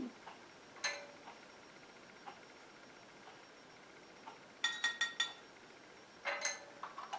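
A utensil stirs oil and vitamin E into melted body butter in a bowl. Faint, irregular metallic clinks and taps come close and quiet, some in quick clusters of three or four, with no talking.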